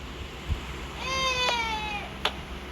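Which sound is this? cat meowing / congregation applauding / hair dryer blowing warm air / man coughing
cat meowing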